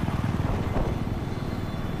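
An enemy helicopter in the Battlefield 4 video game sounds as a loud, close rotor drone with a rapid rhythmic chop, filling the clip without talk.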